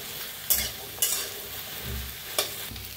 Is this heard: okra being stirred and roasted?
yes